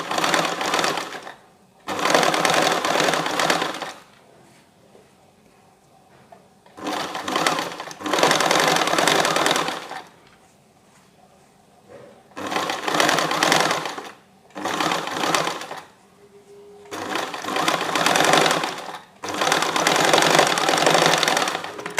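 A sewing machine stitches along a fabric edge while the material is pulled taut, running in five loud, steady bursts of a few seconds each, separated by short quiet pauses.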